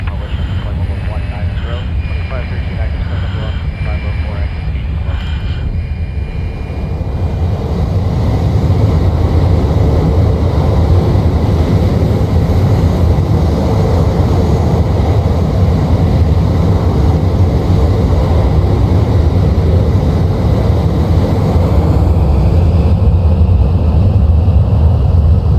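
F-35 jet engine roaring with afterburners in Microsoft Flight Simulator, a loud, steady broadband rumble that swells and thickens after a few seconds and holds continuously, with someone talking over it.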